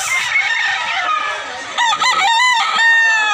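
A white rooster crows loudly and close by at a chicken market in Mantalungon, Barili, Cebu, one long drawn-out call with a rising, wavering middle.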